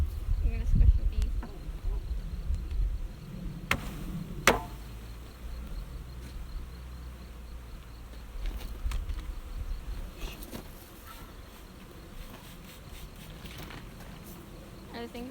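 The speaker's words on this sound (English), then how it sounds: "the bees are coming out" Honeybees pouring out of an opened backyard hive set up a dense, steady insect buzz that lasts throughout, with a few sharp knocks near the start and muffled voices talking over it now and then.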